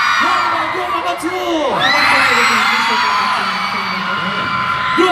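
A fan-meeting crowd in Singapore screams and cheers loudly and continuously, with high shrieks and whoops from many voices filling the whole stretch.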